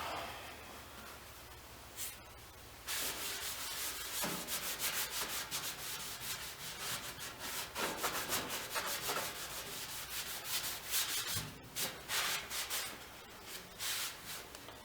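Degreaser and grime being wiped off a vintage Delta shaper, with repeated close rubbing and scrubbing strokes in uneven bursts and brief pauses, and no speech.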